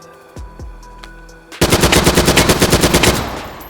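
An ICR-1 rifle in the H3VR video game firing a fast, loud automatic burst of about a dozen sharp shots, preceded by a few quieter mechanical clicks.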